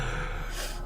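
A voice imitates the heavy panting of a figure worn out from swimming hard: short, breathy gasps, close and fairly loud, with no words.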